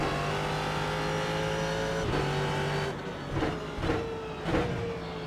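A Ford GT race car engine in the sim racing game iRacing hums at a steady pitch on a cool-down lap, then gives a few soft throttle blips and shifts.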